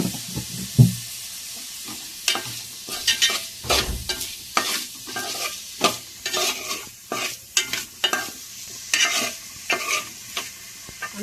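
Mushrooms are fried with salt and stirred in a pan, producing a close, continuous sizzle broken by repeated rhythmic scraping strokes of a spoon against the pan.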